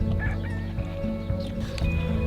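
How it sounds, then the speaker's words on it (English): Two male turkeys and two roosters, one a silver phoenix, in a farm pen give a dense mix of gobbling and clucking, close and continuous with no pause. "Now we're here with our 2 male turkeys, and there are 2 pretty mean roosters, Shammy and our silver phoenix."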